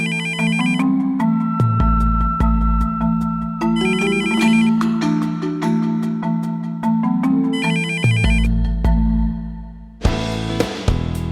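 A telephone rings with a repeating electronic ringtone, three clear bursts of tonal trills with short pauses between, loud and close, with no talking.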